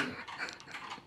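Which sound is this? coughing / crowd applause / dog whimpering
dog whimpering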